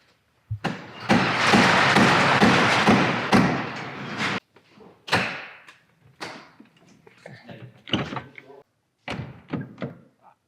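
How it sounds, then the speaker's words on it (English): Door of a Porsche Cayenne under repair being shut firmly, sharp thuds and knocks amid workshop clatter, close and loud, with brief talk around the impacts. "I don't like that these Porsches, you have to close the door like kind of hard."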